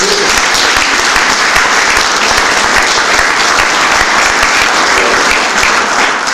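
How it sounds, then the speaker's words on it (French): Loud, sustained audience applause for prize winners at a ceremony, a dense continuous roar of many hands clapping at steady intensity with no speech on top. "On peut les applaudir."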